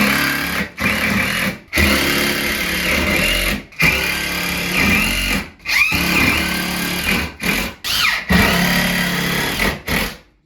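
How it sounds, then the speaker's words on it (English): A power drill drives screws into wall studs while garage shelving is mounted. Loud, close whirring bursts run for a second or two each, separated by brief pauses, with no talking. "we want to screw on each of the studs"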